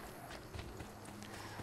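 Horse hooves clip-clop at a steady walking pace in the video game Assassin's Creed 2, dense and continuous over a noisy backdrop with no talk.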